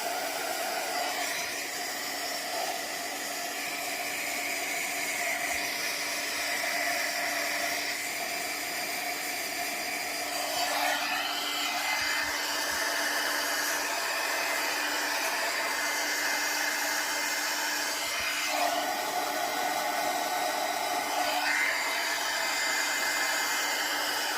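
A heat gun or hair dryer blows hot air onto the edges of a resin chess piece mold, producing a steady, close, unbroken whooshing roar that lasts throughout with no speech.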